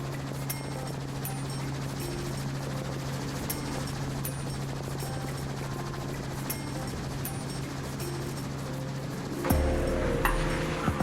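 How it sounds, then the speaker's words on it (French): A jet ski ride back toward Nouméa in New Caledonia, a steady engine drone with a constant low hum and broadband water rush, loud and close, shifting to a rougher, louder roar near the end. "Retour vers Nouméa en jet ski."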